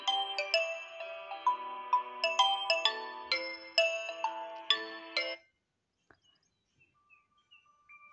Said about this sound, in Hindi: ध्यान से सुनेंगे कितना अच्छा रिंगटोन है